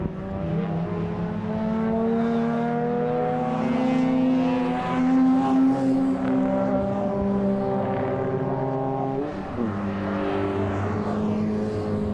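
Max5 race cars lapping Donington Park on the final lap, a steady loud drone of several engines with harmonic whine held throughout, a brief dip and shift near the end as cars pass and change gear.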